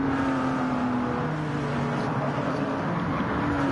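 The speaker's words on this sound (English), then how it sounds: "foot hard to the floor on that straight, hard braking at the bottom of the hill into this little chicane" A Peugeot 908 HDi race car at Catalunya brakes hard at the bottom of a hill into a small chicane after running flat out down the straight, its engine a loud, dense, steady roar close up throughout.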